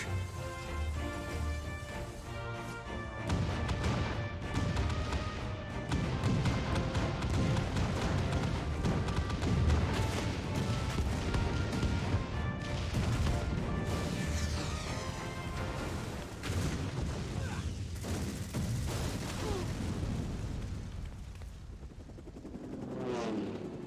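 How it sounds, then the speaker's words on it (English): Cannon fire in the Final Fantasy XIV video game: a dense, continuous barrage of booms and crashing impacts mixed with loud battle music throughout. "All cannons! Fire at will!"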